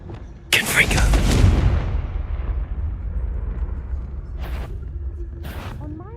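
A Confringo blasting spell in Hogwarts Legacy goes off with a sudden loud explosion, its heavy rumble slowly fading, followed by two short bursts. Speech is also present.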